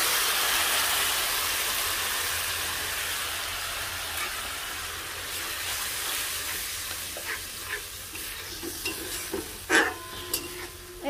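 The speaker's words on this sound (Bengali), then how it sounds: "এইদিকে আমি মাছের ঝোলের মশলা কষতেই থাকছি" Spice paste for a fish curry sizzles in a pan while being stirred, a continuous loud hiss that thins toward the end as sharper scraping clinks cut in.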